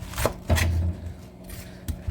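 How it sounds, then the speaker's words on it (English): Onions chopped with a knife on a cutting board in a home kitchen, a few sharp close taps and scraping strokes spaced unevenly over a short stretch. "then when I chop the onions"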